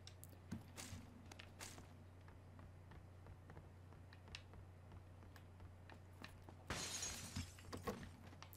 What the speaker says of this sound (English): hear glass breaking by me